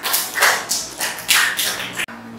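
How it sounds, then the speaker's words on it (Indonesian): Students in a classroom clap for a classmate in a lesson on Islamic purification rules, a few loud, close bursts of uneven clapping that cut off abruptly. "Tepuk tangannya"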